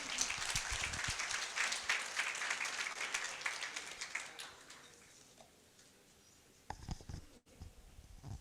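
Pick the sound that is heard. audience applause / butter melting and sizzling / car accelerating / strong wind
audience applause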